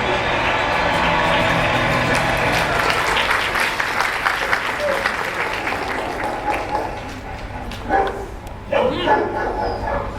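Several dogs bark and yip continuously, loud and overlapping, with voices mixed into the busy, noisy scene.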